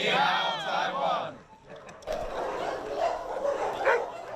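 Stray dogs at a firefighter adoption photo shoot in Taiwan give several yelping barks and whimpers up close, followed by softer barking mixed with other sounds and voices in the background.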